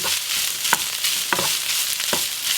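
Garlic and ground beef fry in a pan for meat and veggie pastries, a steady close sizzle broken by a few soft scraping stirs.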